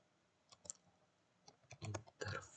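Fingers tapping out a command on a computer keyboard: a short run of quiet, close clicks, sparse at first and then quicker, with a firmer keystroke near the end.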